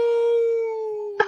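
A dog howls in one long, sustained, steady tone that slowly fades, ending with a short, sharp yelp-like break, heard close and clear with no talking.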